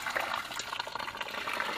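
Wet refractory mix being poured slowly into a mold for a backyard charcoal foundry, heard as a close, sloppy, gurgling liquid pour with irregular splats and no talk.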